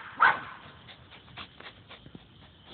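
Hound dog working in the woods gives one sharp, distant bark, then several fainter yips and whimpers that come sparsely over quiet outdoor background.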